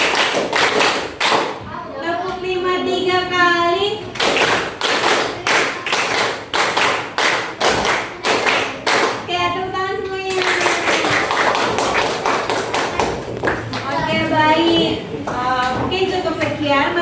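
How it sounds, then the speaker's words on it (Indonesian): A primary school class claps hands in counted rhythm, with crisp, even bursts of many hands repeating over and over, alternating with a teacher's spoken counting in Indonesian that comes between the rounds of claps. "tepuk 5, tepuk 5 3 kali,"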